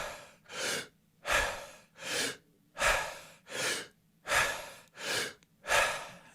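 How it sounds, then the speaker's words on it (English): Rapid breathwork with deep breaths drawn into the chest through the mouth: seven loud, close, evenly spaced rushing inhale-exhale cycles in a steady rhythm, with no talk. "you're breathing in the chest through the mouth,"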